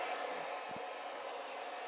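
A hair dryer blows steadily on a shampooed dachshund, a continuous broadband whoosh held at even loudness from start to finish with no voices over it.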